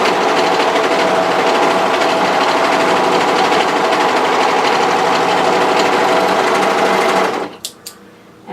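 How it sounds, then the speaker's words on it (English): An overlocker sews together the ends of a hoodie band, a loud, fast, even mechanical buzz that runs nonstop for about seven seconds and then stops abruptly, leaving a few faint clicks. "So what we're going to do is overlock that end together."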